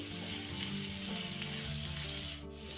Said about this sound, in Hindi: कुटा हुआ अदरक, लहसुन और हरी मिर्च डाल देंगे। इनको थोड़ी देर भून लेंगे।